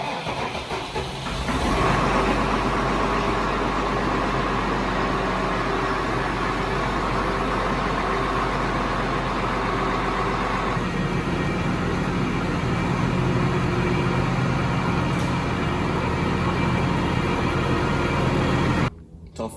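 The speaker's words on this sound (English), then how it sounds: "we're gonna cold start every single one of them because it's about -4 degrees out here" An old Ford tractor engine cold-started in about -4 degree weather, cranking briefly and then running as a loud, steady, close-up diesel clatter and rumble that continues before cutting off at the end.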